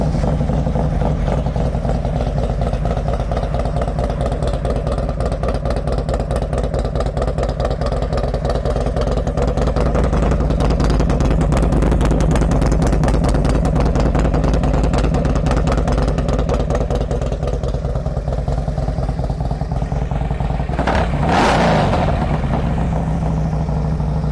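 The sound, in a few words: 2007 Harley-Davidson Road Glide motorcycle engine started and running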